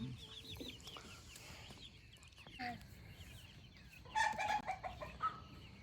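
Little chicks growing up cluck and peep on a farm, with soft chirps scattered throughout and a louder burst of calls near the end, set against steady background noise.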